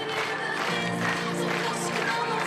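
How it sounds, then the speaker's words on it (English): A crowd at an athletics stadium in Innsbruck claps for a pole vaulter, a soft, blended patter of hands heard under background noise with some voices mixed in. "Clap your hands. Clap, clap, clap."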